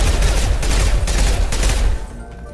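A mech fires in Mass Effect 2, a loud rapid burst of gunfire rattling continuously for about two seconds before cutting off into quieter background.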